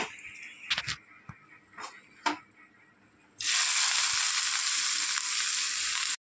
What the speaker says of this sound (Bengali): নুন দিয়ে এবার পেঁয়াজটাকে আমি ভেজে নেব।